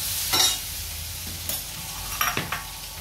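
Curry ingredients sizzle in a hot pan while a spoon scrapes and stirs them in a few short bursts, close and fairly loud, with no talking.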